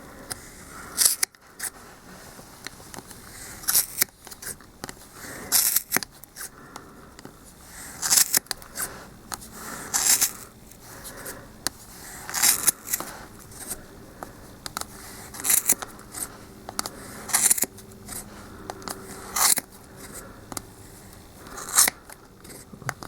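A sharp pair of scissors makes a series of crisp snips while cutting down the middle of yarn or fabric for a longstocking fan hat, the cuts arriving in irregular bursts separated by quiet pauses.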